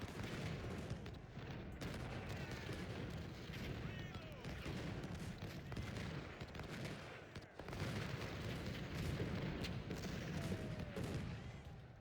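Cannon and artillery fire in the Civil War strategy game Ultimate General: Civil War, a steady, fairly faint stream of distant booms and crackling volleys under battle ambience, with a voice talking over it.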